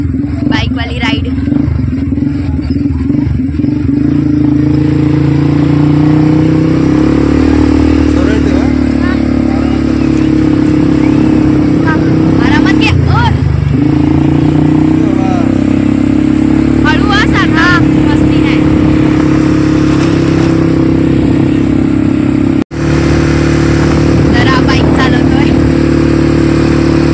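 A motorbike ride near Ganpatipule in the Konkan, with a close engine droning and revving steadily throughout, wind and rumble underneath, and voices talking over it at moments.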